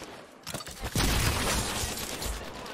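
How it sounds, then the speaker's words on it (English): Gunfire in the video game Apex Legends erupts suddenly after a quiet start, with a rapid, loud volley of shots and impacts that keeps going steadily to the end. "Getting shot at."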